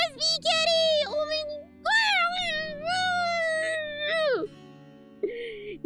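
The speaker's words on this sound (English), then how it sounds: "Look at this USB cat!" The USB cat character Sprite in the video game Date Everything gives a series of clear, close, high-pitched meows. Several drawn-out cries come with short pauses between them.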